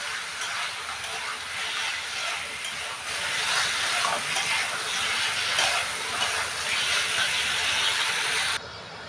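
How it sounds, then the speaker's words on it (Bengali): Crab sautéing in spices in a pan gives a steady, close sizzling hiss that swells slightly partway through and then drops off abruptly near the end. "কাঁকড়া দিয়ে দিলাম, এবারে ভালো করে কষাবো এটাকে,"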